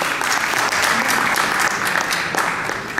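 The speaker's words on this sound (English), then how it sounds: "Ladies and gentlemen, a round of applause for Mr." Loud, dense applause rises from an investment summit audience as a speaker is introduced, a continuous wash of many hands clapping close by for a few seconds.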